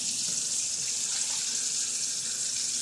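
Tap water pours steadily into a container for steak tacos, a continuous close hissing splash at even strength from start to finish.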